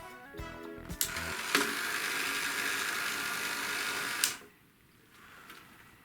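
A self-powered 1980s record cleaner runs on a turntable platter, giving a steady mechanical whirring drone with a few clicks, stopping abruptly near the end before a quieter tail.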